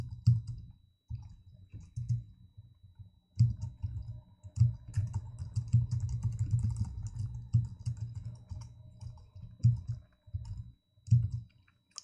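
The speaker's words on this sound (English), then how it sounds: "Notice I'm giving you some time to type as I am, and not saying what I'm typing" Typing on a computer keyboard comes in close, crisp bursts of rapid key clicks separated by short pauses, with a faint steady tone underneath and no talking.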